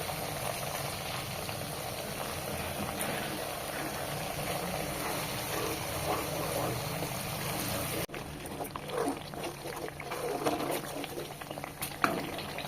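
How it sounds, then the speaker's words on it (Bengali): Pureed tomato paste added to a frying spice masala for mutton chaap gives a steady, dense hiss and bubble that drops suddenly quieter partway through, with faint clinks afterward. "এবার এই মশলার ভেতরে দুটো টমেটোকে ভালো করে পেস্ট করে নিয়েছি মিক্সিতে সেটা অ্যাড করব"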